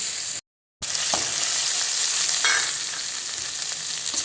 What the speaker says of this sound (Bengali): পেঁয়াজটা একটু ব্রাউন করে ভাজা হয়ে গেছে, এরপর রসুন বাটা দিয়ে দিয়েছি।